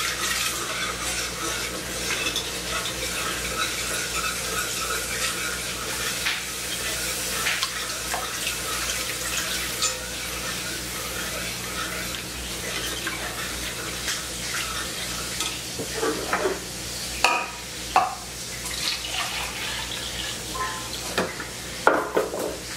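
A whisk stirs white pepper gravy in a pan while liquid is poured in about half a cup at a time, giving a continuous wet sloshing and sizzling with occasional scraping clinks near the end.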